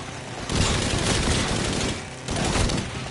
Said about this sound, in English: Why are you shooting them?